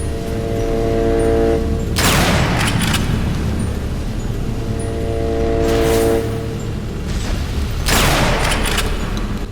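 A charged gun fires in the video game Ashes: Afterglow, sharp loud blasts breaking through a steady low mechanical drone, with separate bursts spaced a few seconds apart.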